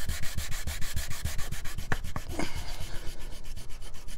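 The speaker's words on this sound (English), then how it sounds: "We'll sand this evenly." Hand sanding the inlay on a wooden banjo fretboard gives a steady run of rhythmic rubbing strokes, close and fairly loud, with a few sharper scrapes partway through and nobody speaking.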